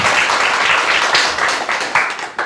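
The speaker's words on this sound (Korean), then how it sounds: "하나님께 박수" Loud, dense applause from a church congregation during a sermon, a steady roar of many hands clapping close by for a couple of seconds with no voices over it.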